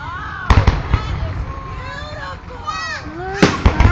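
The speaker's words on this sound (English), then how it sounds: "Look, these are fireworks." Large fireworks display over Denver, Colorado, with several loud booming bursts near the start and end and crackling between them, while people talk excitedly throughout.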